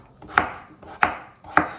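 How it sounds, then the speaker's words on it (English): A knife chops peeled potatoes into cubes on a cutting board, three sharp, evenly spaced thuds close by with quiet gaps between, no talking. "I'm just gonna kind of cut them into cubes."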